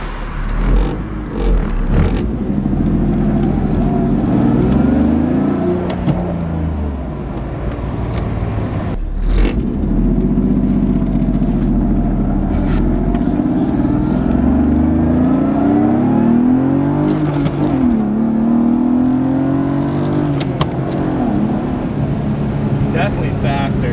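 BMW E36 daily drifter with a naturally aspirated engine revving and pulling through the rev range during test runs, loud and continuous with rising and falling engine tones, close by throughout, with brief speech in the car.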